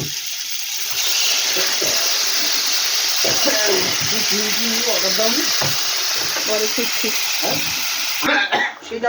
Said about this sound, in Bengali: এবার আমি জল ফেলে দেবো